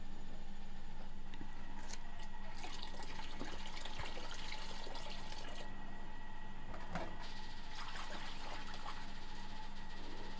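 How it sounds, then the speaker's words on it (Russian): Cold water flows into a bucket while a Trichoderma solution for strawberries is mixed, a steady trickling, splashing stream of moderate loudness lasting several seconds, with no speech. "в ведро добавить 2 литра холодной воды"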